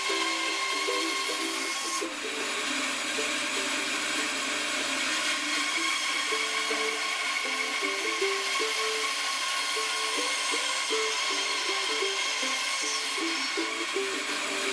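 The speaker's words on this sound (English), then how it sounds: "Now I'm going to lean the other side of the jig and cut the other side of the dovetail." A mandolin dovetail joint is cut with a jig, making a continuous, even whining and grinding machine noise that holds steady the whole time at moderate loudness, with no talk.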